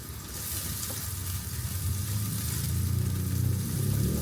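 Onion and garlic sizzle and fry in a pan, a close, steady crackling hiss that grows slightly louder, with soft stirring scrapes underneath.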